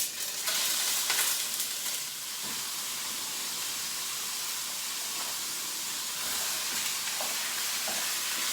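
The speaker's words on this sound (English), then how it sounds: "we're going to add our ground beef to the pan" Ground beef frying in a pan for beef burritos, a steady close sizzle with broad hiss throughout, a little louder in the first couple of seconds, with faint clinks and stirring scrapes now and then and no talking.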